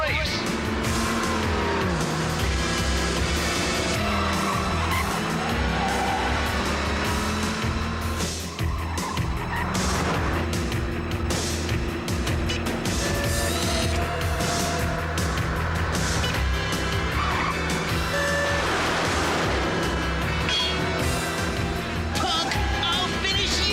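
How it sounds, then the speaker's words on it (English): Cartoon race cars speed along in a Speed Racer duel, engines whining and revving loudly with tire squeals and skids, continuous throughout under excited voices and dramatic music. "Axel Ripley and Speed Racer are the only drivers left in the race"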